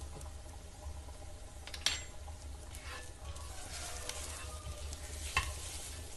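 Beaten egg sizzles as it fries in a pan, a steady low crackle with a couple of sharp utensil clinks against the pan, no voices.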